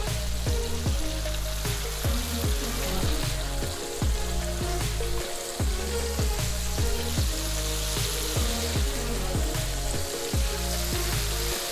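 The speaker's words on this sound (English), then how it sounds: "As soon as it hit the pan, it started frying, so that's what you want." Mustard-coated chicken tenders fry in hot oil in a pan, giving a loud, continuous close-up sizzle with crackling pops throughout, with no talking.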